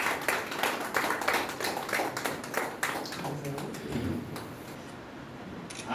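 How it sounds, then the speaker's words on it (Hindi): Audience clapping to welcome a guest onto a stage at a human rights event in Gopalganj, a dense patter of many hands that thins out partway through while speech carries on over it. "एक बार जोरदार तालियों से इनका स्वागत करें।"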